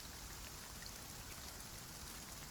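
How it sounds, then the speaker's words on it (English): Steady rain falls on a greenhouse's glass roof in the evening, a soft even hiss of drops spread across the whole stretch with no voices. "The rain on the glass overhead is the only real sound."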